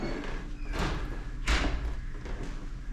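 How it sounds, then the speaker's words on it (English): An old door in a reputedly haunted hotel is swung, giving a creak and a dull thump against steady low background noise. "Creaky doors for an old hotel, right?"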